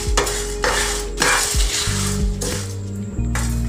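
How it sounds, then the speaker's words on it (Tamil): Dried red chillies roasting in a pan, with a steady soft sizzle and intermittent scraping strokes from a stirring utensil and a low background hum. "ஒரு 2 நிமிஷம் நல்லா வறுபடட்டும்."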